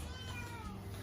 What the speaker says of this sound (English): she just had 3 kittens